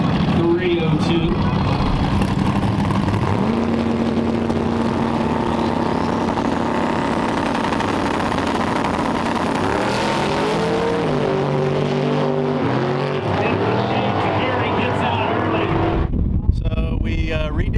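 Stock 302 Mustang drag race car engine at a no-prep drag strip in Alabama, a loud continuous roar with rising, shifting tones, then a sudden cutoff near the end.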